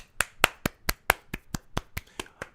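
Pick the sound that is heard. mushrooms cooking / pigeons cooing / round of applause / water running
round of applause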